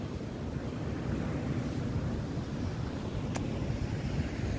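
Ocean surf rolls onto a beach in Gunungkidul, Yogyakarta, heard as a steady, dense wash of breaking waves mixed with wind rumbling on the microphone.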